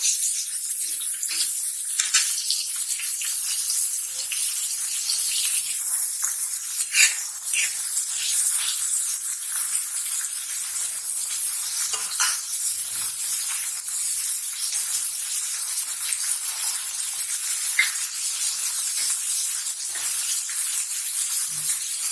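Onion frying in a pan for boiled egg bhurji: a continuous bright sizzling hiss with scattered small crackles and pops, steady and close, no voices.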